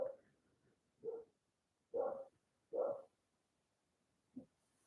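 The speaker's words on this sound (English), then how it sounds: "My dogs will chill in a second." Dogs give a series of short, separate barks and yips indoors, about five bursts spaced over several seconds with quiet gaps and a faint whimper between them.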